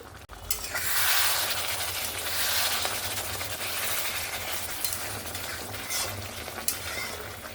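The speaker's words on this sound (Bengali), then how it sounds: "ঢাকনাটা খুলে নিয়ে আবার একবার নাড়াচাড়া করে দিলাম" Giant prawn malai curry is stirred in a hot pan, with continuous sizzling and frying noise and the scrape and clink of a spoon against the metal, close and fairly loud.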